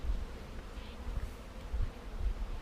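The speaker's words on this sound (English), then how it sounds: "These bees here are probably foraging bees coming back in and then getting confused." A large honey bee swarm hums steadily close by as foraging bees return to it, a dense continuous buzz over low rumbling, with no voices.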